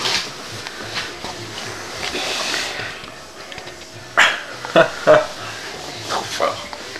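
A dog barks a few times in short, sharp bursts during a game of Jenga, close by, with people chatting and laughing around it.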